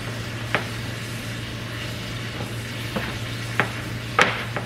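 Ground meat browning in a pan while being stirred, a steady low sizzle with a constant hum underneath, punctuated by a few sharp scraping clicks of the utensil against the pan, spaced irregularly and near.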